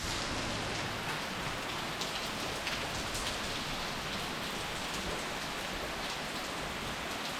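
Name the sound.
heavy tropical rain falling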